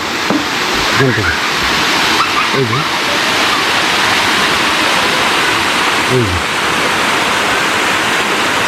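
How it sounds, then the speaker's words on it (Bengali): Wang Pa waterfall in Bandarban pours in a loud, constant hiss and roar close by, while a person calls out a few short words over it. "এই জায়গা থেকে ঝর্ণাটা কি সুন্দর লাগতেছে"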